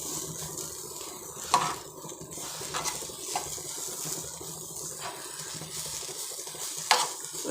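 Raw banana podimas with coconut and coriander is stirred in a pan, soft scraping strokes repeating over a gentle sizzle, close and fairly quiet with a few louder clinks.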